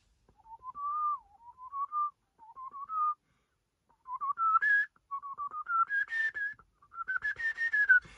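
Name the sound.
whistling imitating a flute tune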